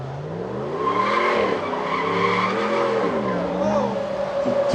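A truck in a Mopar burnout contest at the Chrysler Nationals in Carlisle spins its tires with loud, wavering squeals over a revving engine, close and continuous for several seconds.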